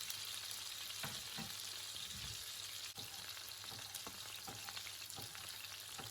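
Salmon fries in a pan with a steady sizzle, close and even, broken now and then by small clicks and light stirring taps.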